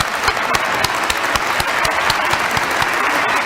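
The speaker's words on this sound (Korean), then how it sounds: "큰 감사의 박수를 부탁드립니다" Audience at a church ceremony marking a unification event, applauding together; dense, loud, steady clapping from a large crowd throughout, with no speech over it.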